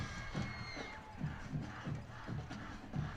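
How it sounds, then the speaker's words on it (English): Crowd murmur fills UTA's Maverick Stadium at a Texas high school football game between Arlington and Arlington Lamar, a steady wash of distant voices and shuffling with periodic low thumps. "Crowd still coming into UTA's Maverick Stadium"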